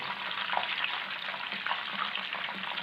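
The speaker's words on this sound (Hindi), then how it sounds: "फिश फ्राई हो रही है, और थोड़ी देर इसे फ्राई करेंगे" Fish fillets deep-frying in hot oil for a crispy masala fish fry, a dense, steady bubbling sizzle close by, unbroken and without talk.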